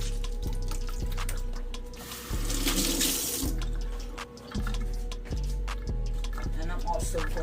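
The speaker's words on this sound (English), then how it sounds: "I'm catching some water into my pan" Tap water runs steadily into a metal pan at a kitchen sink while cow foot is prepared for cooking with broad beans, a close, continuous splashing stream that swells and briefly dips, with background hum under it.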